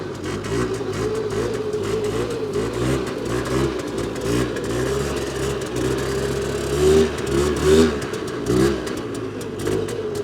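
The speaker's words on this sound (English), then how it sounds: "Something is noisy in that clutch or transmission or something." An old Polaris quad engine revs unevenly at close range, its drone rising and falling with grinding clatter from a noisy clutch or transmission.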